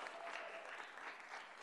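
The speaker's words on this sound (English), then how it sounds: "Clapping's fine." Applause from the audience at a city council meeting, a brief, steady burst of many hands clapping from a crowded room, heard on its own.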